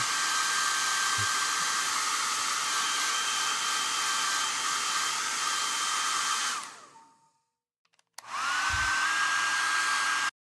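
A compact Dyson hair dryer blows on its cold setting with a loud, steady whoosh and a high whine, cuts out briefly, then starts again close by.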